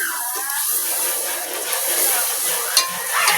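Masala spices frying in a pan give a steady close sizzle with a few sharper stirring scrapes near the end and no talk.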